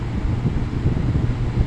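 A Holmes HABF-21 or Lakewood 223 electric fan runs at medium speed with a steady, close, broadband whoosh of moving air and a low motor hum, unchanging over the short stretch.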